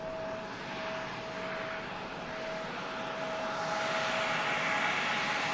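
An EasyJet airliner taxiing at Manchester Airport: a steady broad jet engine roar with a thin whine, heard from a distance and slowly swelling louder toward the end, with no voices.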